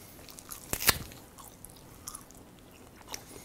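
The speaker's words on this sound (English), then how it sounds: "I could sit here and chew on this bone for a good 15-20 minutes" Someone chews on a raw animal bone up close, giving a few sharp crunches and cracks, one loud snap near the start, and quieter wet gnawing in between.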